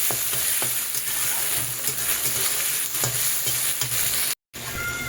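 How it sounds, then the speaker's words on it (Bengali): Onion and tomato fry together in a pan for a moong dal with a katla fish head, giving a steady close sizzle with stirring scrapes throughout and a brief cut near the end. "পেঁয়াজ আর টমেটোটাকে একসাথে এটাকে নাড়াচাড়া করব।"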